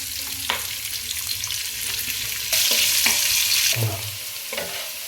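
Masala and onions for egg biryani fry in a pan with a steady broadband sizzle, punctuated by scraping stirs and a louder burst of hissing midway, with no talk.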